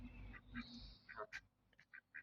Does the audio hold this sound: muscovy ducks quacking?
yes